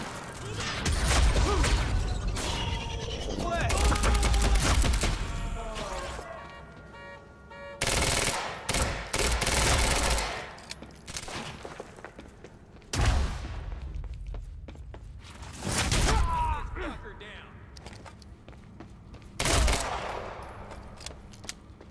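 Suppressing gunfire in the Quantum Break video game, loud rapid automatic bursts separated by short pauses, with occasional mechanical clatter and brief shouted voices between volleys.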